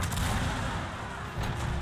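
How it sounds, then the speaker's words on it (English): Cannon artillery in Shogun 2 battle, a dense continuous roar of booming fire and rumble from multiple guns, loud and sustained with slight swells. "Our cannons are going to be firing, and they do a lot more damage to the enemy than these musket rifles"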